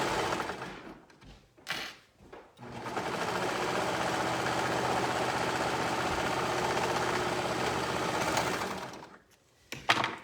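Sewing machine stitching a cuff onto a shirt, a close steady whirring run of about six seconds between shorter starts and stops.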